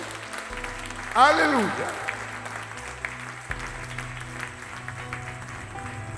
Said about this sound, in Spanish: Dale un aplauso al Señor con todo su corazón.